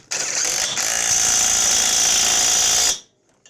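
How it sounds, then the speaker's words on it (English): A 3/8-inch cordless impact wrench tightens a fastener on a snow blower's pull-cord assembly in one continuous, loud, close whirring burst of about three seconds before cutting off abruptly. "That's just a 3/8 cordless impact."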